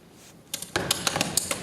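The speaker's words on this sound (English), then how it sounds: "Farmer Brown could hear a different, sassier cow typing away" A typewriter clacks in a quick burst of about eight sharp, bright keystrikes, close and clear, following a couple of softer clicks.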